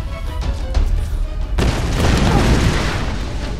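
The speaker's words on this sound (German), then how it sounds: "Ach hey, alles explodiert." Explosions in the Tomb Raider video game burst out as a loud, sudden boom that gives way to a sustained roaring, crackling rumble, following quieter game ambience.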